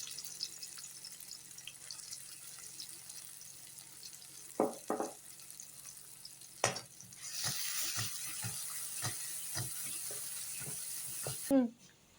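Crushed shallots and garlic going into coconut oil in a small pan: quiet room tone and a few clanks, then a louder steady sizzle with scattered utensil knocks.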